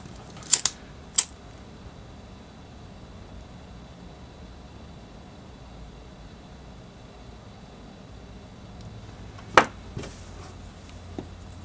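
Two or three quick, sharp scissor snips cutting paracord ends open a quiet stretch, then a long pause before another crisp snip and a couple of faint clicks.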